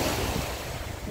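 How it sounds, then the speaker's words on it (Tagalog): Surf washing onto the beach beside a pier at Tung Lung Fort, a steady close wash of breaking water with wind noise across the microphone, no voices. "Kasarap pakinggan ng mga alon."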